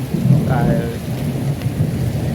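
A storm with heavy rain and hail in Bagasara, a dense steady patter of rain with a low rumble of thunder rolling underneath, close and loud.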